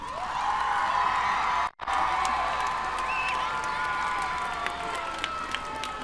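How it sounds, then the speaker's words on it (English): Students at a school orchestra concert applaud their parents, a dense sustained wash of clapping with cheers and whoops from a crowd in a hall, interrupted by a brief dropout. "Can all of you students give a big round of applause to your parents?"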